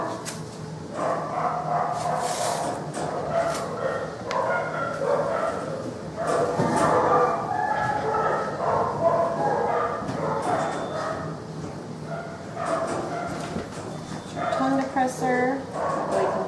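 Dog whimpering, yipping and giving short barks while a modified Robert Jones bandage and splint go on its front leg, with people talking throughout.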